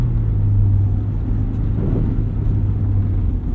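A 2022 Subaru BRZ with a 1.5 inch lift drives through wet snow and slush on Falken Winterpeak F-Ice 1 winter tires, sized 205/60 R16. A steady, loud low engine and road rumble continues throughout.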